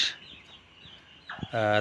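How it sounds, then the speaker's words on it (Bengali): Two-day-old broiler chicks in a 500-bird farm batch chirping up close: a quick high peep at the start, a quiet stretch, then louder, fuller calls in the last half second. "আমি পাঁচশো ব্রয়লার মুরগির সেটে তেরোতম রমজানে বাচ্চা উঠাইছি আজকে দুই দিন বয়স"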